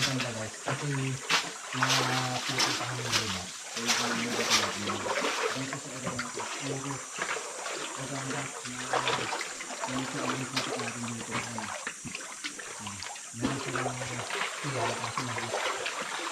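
A waterfall pours steadily, continuous rushing water with splashing bursts, while people talk over it throughout.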